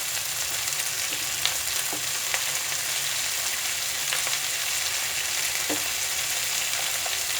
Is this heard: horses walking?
no